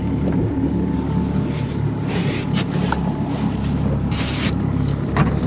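An outboard boat motor idles steadily while warming up, a low continuous hum with a faint tonal whine, accompanied by wind buffeting the microphone, on the Minsk Sea in September.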